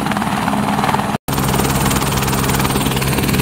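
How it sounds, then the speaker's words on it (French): A helicopter arrives for an emergency evacuation near Dingboche at 4,400 m on the Everest base camp trek, its rotor blades left turning. The rotor throbs loudly and steadily, broken by one very brief dropout. "Voilà, l'hélicoptère arrive et il n'éteindra pas les pales, il continuera à tourner"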